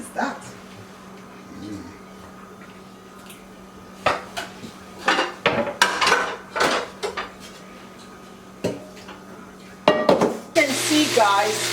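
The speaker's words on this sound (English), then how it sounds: "I put them in the hot oil and I want them to get a little brown." Chicken pieces go into hot oil to brown for Jamaican curry chicken, amid clattering pots, pans and utensils, and a loud hissing sizzle bursts up near the end. Voices talk through the kitchen noise.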